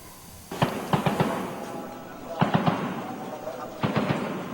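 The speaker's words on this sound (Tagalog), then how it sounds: "Sa Mapandi, halos wala nang tigil ang putukan kaya maingat ang bawat galaw." Gunfire in heavy fighting in Marawi City, at the Mapandi area: three bursts of several sharp cracks each, close and loud, separated by short lulls over an ambient rumble.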